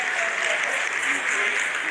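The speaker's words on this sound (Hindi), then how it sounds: "Lot of applause indicates that till now the performance has been nominal." Broad, steady applause fills a mission control room during the Chandrayaan-3 lunar landing's vertical descent phase, a continuous wash of many hands clapping at moderate loudness throughout.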